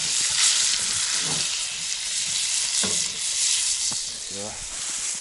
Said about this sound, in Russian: Самая фишка, ребята, это масло. О, сковородочка нагрелась.